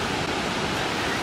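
Waterfall at Cummins Falls: a dense, even hiss and rush of falling water fills the short stretch at a steady, loud level, with no voices.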